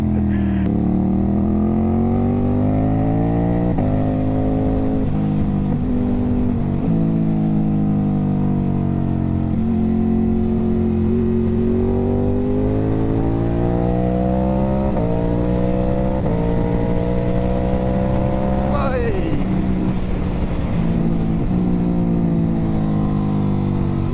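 A Ducati Hypermotard 950 SP with an aftermarket exhaust and ECU tune revs and drones through gear changes while riding, its loud engine note rising and falling close to the microphone.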